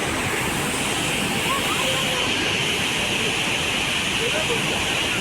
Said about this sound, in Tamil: பெரியார் அருவியில் காட்டாற்று வெள்ளம் பெருக்கெடுத்து ஓடியது